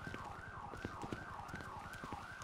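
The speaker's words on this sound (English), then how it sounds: "I hear hella sirens." Police sirens in the video game GTA Online, a wailing tone sweeping up and down in regular cycles, fairly faint and distant beneath wind-like background noise.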